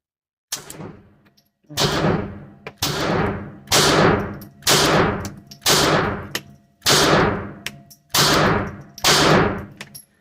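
Glock pistol shots ring out at a shooting range: about eight loud, sharp reports, each with a ringing tail, fired at steady intervals of roughly one second.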